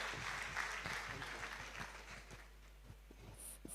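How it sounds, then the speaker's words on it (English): Audience applause at a youth leadership debate and conference, a steady wash of clapping from a crowd that thins toward the end, with no voices over it. "Let's keep the applause going."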